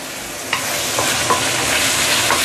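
Curry chicken ingredients sauté in hot oil with a loud, dense, continuous sizzle, punctuated by a few stirring scrapes and clicks.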